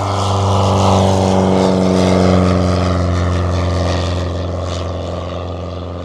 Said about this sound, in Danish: I hvad der for en amatør som mig ligner verdens mindste flyvemaskine.